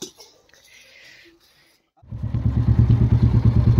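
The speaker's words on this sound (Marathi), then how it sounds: "आणि बाईकसुद्धा कोल्ड स्टार्ट केलेली आहे" A motorcycle engine running just after a cold start, loud and close with a steady rapid throb, beginning abruptly after a quiet stretch with faint background sounds.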